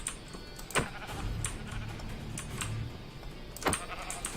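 A sheep in the Minecraft video game bleats while being killed, two sharp bleats about three seconds apart standing out over loud, intense game music.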